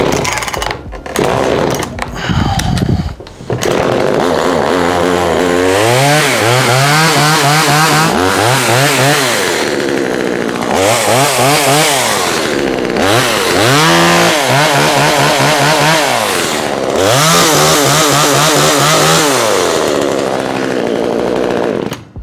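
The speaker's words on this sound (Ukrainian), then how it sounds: "Все, пила заправлена, підкачаємо паливо праймером і запускаємо." A Dnipro-M DSG-25H gasoline chainsaw is pulled into life with a brief sputter, then runs loud and close with a steady idle broken by repeated rising and falling throttle revs, and no talking.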